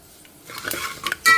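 A utensil scrapes and clinks against a metal pan a few times in quick strokes, stirring dried red chillies and curry leaves in a tempering, ending with a brighter clatter.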